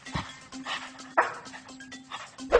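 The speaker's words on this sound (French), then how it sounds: "je vous présente Puggy, le chien à la plus longue langue du monde" Small dog with an exceptionally long tongue, heard in short yips and whimpers spread across a few seconds, close by, with brief indoor noise between.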